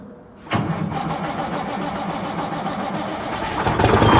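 A Kenworth diesel truck engine cranks and catches at once on a cold start, then settles into a loud, steady rumbling idle that swells slightly toward the end.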